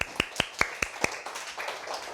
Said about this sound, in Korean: 우리 다 같이 손뼉 한번 쳐줍시다